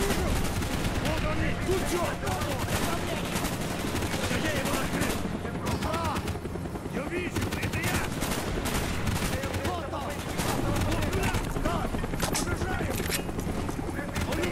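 Steady automatic AK fire in Call of Duty: Black Ops (2010), loud overlapping bursts filling the whole stretch without letup, mixed with battle noise and occasional speech underneath.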